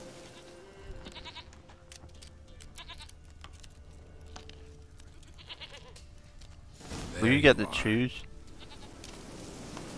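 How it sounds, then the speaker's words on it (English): A goat bleats loudly in The Witcher 3 video game, a short burst of several bleats that stands out clearly over quieter game sounds and intermittent talk. "Come here, you princess goat."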